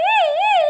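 Ambulance siren sound effect, a wailing tone rising and falling in smooth cycles with strong harmonics, loud and close, heard alone.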